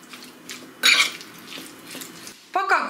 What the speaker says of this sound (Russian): Хорошенько перемешиваем.